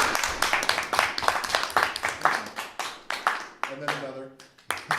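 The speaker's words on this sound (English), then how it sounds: "I think you deserve at least 2 more rounds of applause" Small audience at a JavaScript programming talk claps for the presenter, a string of sharp, uneven hand claps at close range that fades out toward the end, with someone speaking over it partway through.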